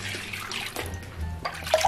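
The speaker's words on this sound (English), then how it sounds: "I think I'm gonna add a lot more water." Water is poured into a stretchy mixture during a challenge of adding more and more ingredients, a continuous close splashing and gurgling pour that lasts the whole moment without talk.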